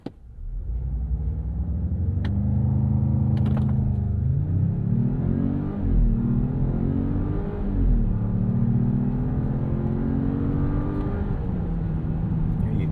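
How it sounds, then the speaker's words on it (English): A 2026 Jeep Grand Cherokee with the Hurricane turbo engine launching from a brake-torque start on a slight downhill, the engine note climbing and rumbling through rising revs and shifts, steady and close from inside the cabin. "Let's turn traction off and we'll brake torque it."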